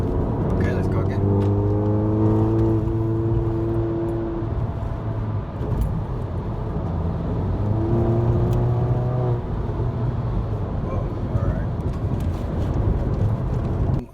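Volkswagen GTI MK7 with a Cobb Stage 2 tune and a DSG flash in sport mode, accelerating hard from inside the car; loud, steady engine drone whose harmonic tone climbs through two rising pulls, with a dip between them, over constant road and wind noise.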